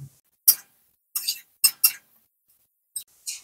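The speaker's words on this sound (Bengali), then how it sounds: "পেস্টটা দিয়ে আমি ভালোভাবে মিশিয়ে নিলাম।" A utensil stirs a mustard, poppy seed and green chili paste into a cooking fish head, giving a handful of sparse, sharp metallic clinks and scrapes against the pan separated by silence.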